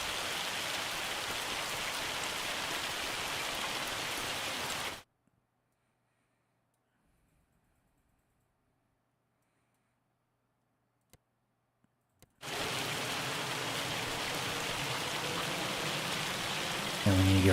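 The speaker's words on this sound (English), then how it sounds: "I guess we'll hold off until the rain's done" Steady rain pours down in Farming Simulator 25, a dense continuous hiss that cuts out abruptly to silence for several seconds, then returns just as loud.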